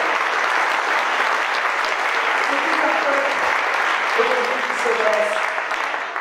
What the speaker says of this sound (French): je voudrais aussi qu'on applaudisse les hommes iraniens qui se lèvent pour discuter les femmes de liberté